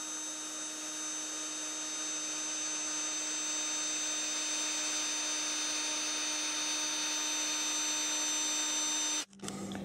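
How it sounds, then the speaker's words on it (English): A power drill twists wire taut for razor wire fencing scenery, giving a steady, loud high whine that holds for about nine seconds before cutting off abruptly, with no voices. "normally I twist it until the drill starts to pull forward"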